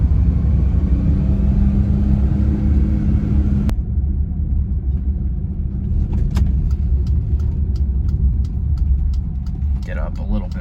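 A 1997 Suzuki Alto kei car rumbles steadily from inside the cabin, the engine note dropping sharply partway through as the driver shifts gears, followed by light clicks.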